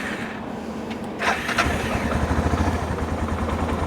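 A motorcycle engine cranks briefly, catches and settles into a steady, close idle putter.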